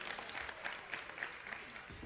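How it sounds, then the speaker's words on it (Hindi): An audience at a religious festival event in Baraut, Baghpat, claps to welcome a poet, a faint, distant patter of steady applause with a murmur of voices underneath. "एक बार कुशल कुशवाहा का जोरदार तालियों से अपने बीच स्वागत करें"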